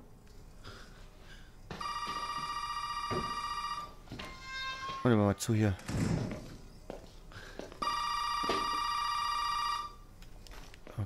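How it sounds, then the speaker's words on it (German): An electronic telephone ring in the video game Resident Evil 7: Biohazard sounds in two long bursts, separated by a stretch of brief voices and thuds, loud and close. "jetzt klingelt das Telefon schon wieder"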